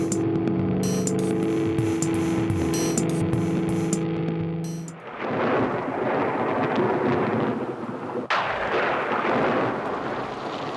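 Deep rolling thunder rumbles over steady rain, with a sharp crack partway through and a long low roar that fades and returns.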